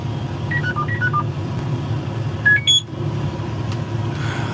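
A planter monitor alarm sounds short electronic beeps in quick stepped sequences inside a Fendt tractor cab during planting, over a low steady engine rumble.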